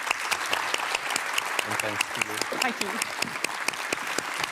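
An audience gives a panel discussion on regenerative design in the built environment a steady round of applause, dense clapping throughout with a speaker talking briefly over it.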